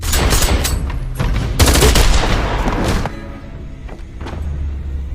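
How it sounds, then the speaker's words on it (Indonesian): Officers trade fire with robbers in a film shootout, with close, loud bursts of rapid gunshots over about three seconds. Quieter scattered shots and rumble follow. "3 petugas bernama Dana, Jack, dan Dillard memutuskan untuk menembaki para perampok."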